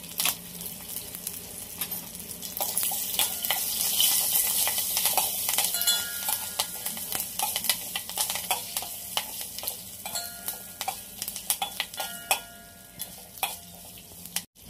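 Hing, sesame seeds, curry leaves and green chillies crackle and sizzle in hot oil for a dhokla tempering, a steady close hiss with scattered pops and spatters that slowly settle.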